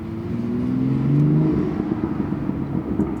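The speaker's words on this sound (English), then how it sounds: "The Audi, the S4, does not burble like this car." BMW M2 exhaust burbling and rumbling at close range, a steady low engine drone with shifting tones that swell briefly and then settle into a rough, crackly burble.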